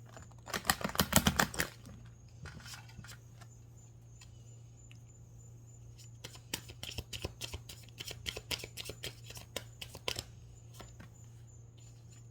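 Close-up card shuffling: a dense burst of riffling, then pauses and a run of quick, crisp snaps and flicks over a low steady hum.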